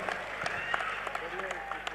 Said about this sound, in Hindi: बहुत ही जोरदार तालियों से कुमार विश्वास का स्वागत।